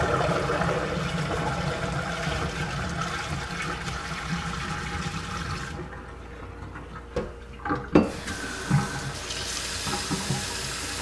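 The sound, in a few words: water running from a tap for brewing hot water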